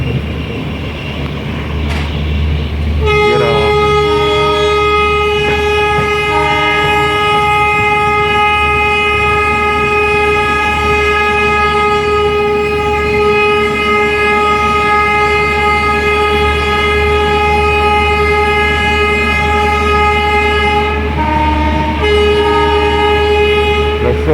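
A Lucknow–New Delhi AC superfast train rumbles steadily in heavy fog while a loud, sustained train horn blares from near the start almost to the end, with a short clatter before it begins.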